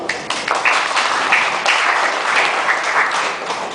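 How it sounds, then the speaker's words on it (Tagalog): A crowd applauds at a formal event honoring an attorney and executive, with loud, sustained clapping that swells early and stays full and even throughout. "Palakpak naman."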